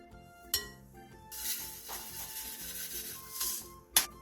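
Green onion, gochujang, chili flakes, soy sauce, plum syrup, sesame oil, corn syrup and sesame seeds are stirred together in a bowl, giving soft close scraping and rubbing with a few sharp clinks against the bowl.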